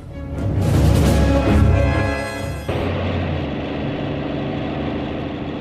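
A motorcycle engine runs steadily up close, a loud rough rumble that drops to a lower, even idle partway through, with no talking.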